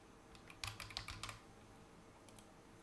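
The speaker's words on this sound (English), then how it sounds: "You can type some text here" Computer keyboard typing in a short quick burst of soft, close clicking keystrokes, then near silence with a couple of isolated taps.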